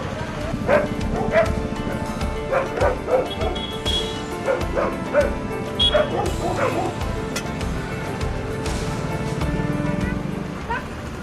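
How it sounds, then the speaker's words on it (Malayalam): Stray dogs on an evening town road bark and yip repeatedly, with whimpers mixed in, loud and close amid background street noise. "തെരുവ് നായകൾ റോഡിലുണ്ടാകും"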